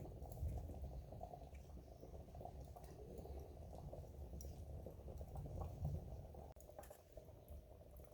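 Green bananas (matoke) simmer in a pot in Uganda, giving a steady low bubbling and hiss throughout, faint and continuous with no talk.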